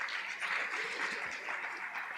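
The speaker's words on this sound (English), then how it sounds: "Please, another round of applause for them." Audience applause for conference panelists at a sustainability conference, a dense even patter of clapping at moderate distance, brief and fairly quiet.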